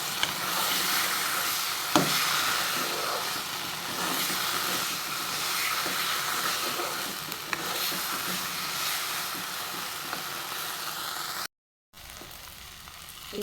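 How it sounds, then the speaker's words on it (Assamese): Potatoes frying with cumin seeds in a pan make a continuous hiss and sizzle, broken by a few stirring scrapes and a brief gap near the end. "মই ভাজি লৈ আলুখিনি দি দিছোঁ"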